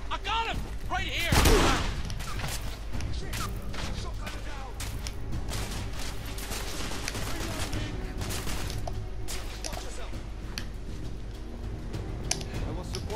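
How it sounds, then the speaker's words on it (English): Heavy gunfire rattles through a battle in The Order: 1886, with dense, continuous bursts and a big blast near the start. A voice speaks over the shooting. "I'm under heavy fire"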